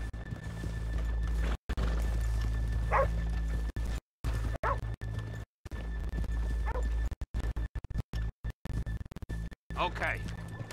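Horses in the Red Dead Redemption 2 video game, with brief snorts and whinny-like calls over a constant low game hum that cuts out in repeated dropouts.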